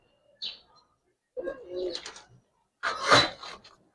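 Senior pigeons, Giribaz and coloured breeds, give soft cooing calls in three short bursts, the last one fuller and louder, close by with no talk over them.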